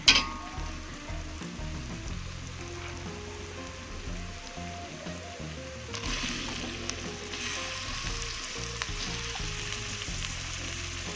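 Tomato, green chili and galangal tossed into a hot frying pan with oil make a brief clatter, then a steady hissing sizzle that grows louder and brighter partway through, close and without speech.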